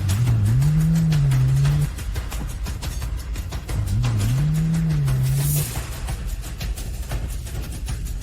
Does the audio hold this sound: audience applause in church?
no